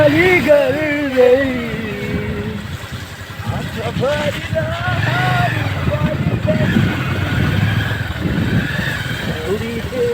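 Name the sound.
motorcycle riding on a road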